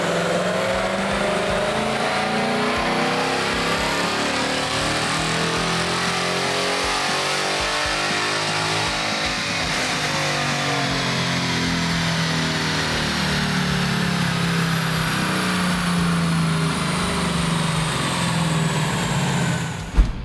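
A 2018-or-newer Ford Mustang GT with a Generation 3 Coyote V8 and an SCT pre-loaded tune makes a long, loud dyno pull, engine pitch climbing steadily through the gears in one continuous roar, ending abruptly near the end.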